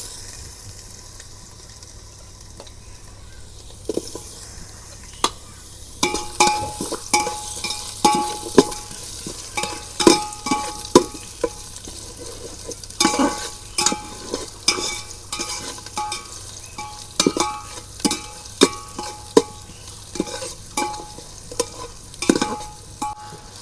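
Onions and spices fry in oil for beef biryani, with a soft background sizzle and repeated close, sharp stirring scrapes that grow busier and louder as the cooking goes on. No one speaks.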